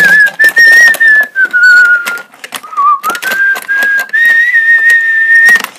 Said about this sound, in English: your whistling's really loud and it's hurting my ears